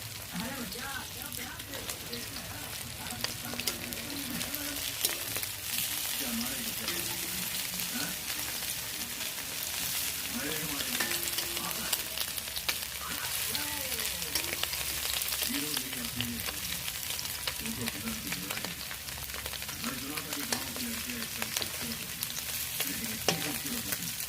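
Food fries steadily in a pan, a continuous dense sizzle with occasional stirring scrapes throughout, with faint background voices at times.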